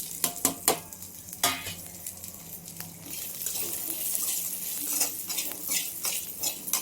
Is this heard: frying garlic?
yes